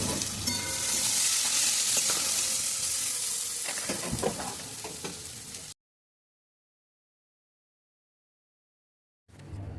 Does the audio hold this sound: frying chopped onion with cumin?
yes